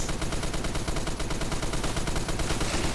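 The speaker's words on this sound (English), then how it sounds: "I have the M60. You cannot hide from it." An M60 light machine gun fires a continuous, dense burst in the Phantom Forces video game, with rapid loud shots filling the whole stretch and no pause.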